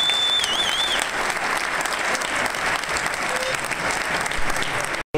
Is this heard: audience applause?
yes